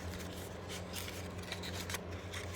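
Cardstock for a Halloween treat box is folded and creased, giving close, quiet rustling and scraping swipes in irregular bursts, with no talk.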